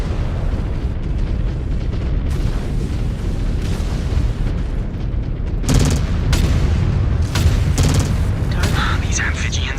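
Cannon and ultra autocannon fire from a battlemech in MechWarrior 5: Clans, a dense run of heavy booming shots and bursts layered over continuous combat noise, with a few sharper blasts standing out near the end.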